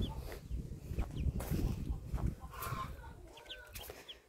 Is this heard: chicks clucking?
yes